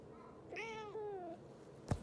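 A single drawn-out meow from a house cat, clear and fairly close in a quiet room, followed by a brief sharp thump.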